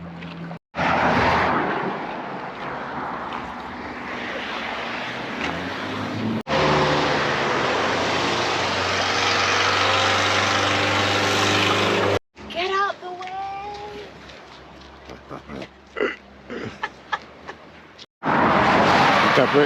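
A tractor engine drones steadily during a ride, rising and falling across the passage with breaks, while people talk over it.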